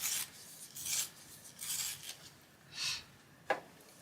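A blunt coloured pencil is sharpened with quiet, repeated rasping strokes, four or five scraping passes close by, ending in a small sharp click.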